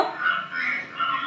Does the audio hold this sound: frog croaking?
yes